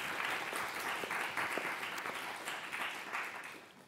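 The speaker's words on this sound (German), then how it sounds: "Vielleicht erstmal einen Applaus für alle, die da sind und so als Aufwärmmoment." Audience at an academic symposium on AI in higher education applauds, a sustained wash of many hands clapping heard from a distance, fairly faint and even throughout.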